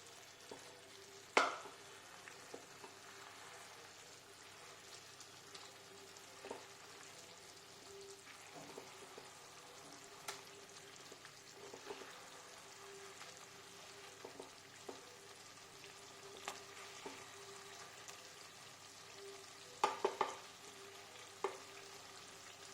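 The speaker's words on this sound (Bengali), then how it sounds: "চিকেনটা আবারও একটু উল্টিয়ে দেব, নিচেটা ঠিকঠাক দেখে দেখে।" Chicken sizzles steadily in a frying pan, a low continuous hiss broken by a few sharp clinks and scrapes as the pieces are turned, with no one talking.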